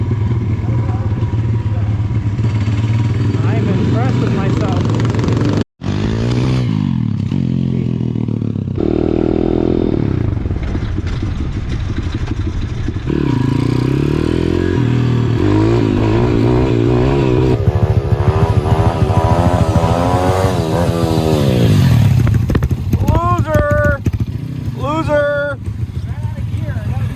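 Dirt bike engines rev and rise in pitch while riding through a downtown area, loud and close with rough wind buffeting, and a person talks over them throughout.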